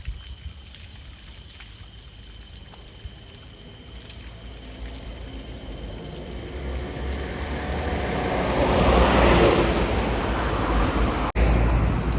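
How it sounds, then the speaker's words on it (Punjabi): Water from a waterfall pours down beside a roadside bus stop on a mountain route toward Hemkund Sahib, a steady broadband rush that swells louder toward the end, with traffic-like rumble underneath and no talk. "ਇੱਕ ਝਰਨਾ ਆ ਰਿਹਾ ਉੱਪਰ ਤੋਂ ਪਾਣੀ ਆ ਰਿਹਾ ਝਰਨੇ ਦਾ"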